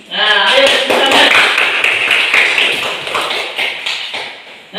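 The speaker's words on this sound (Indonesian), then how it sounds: "Ayo tepuk tangan" A class of students claps their hands together, producing a burst of many quick, close claps that start loud and gradually thin out, with young voices mixed in.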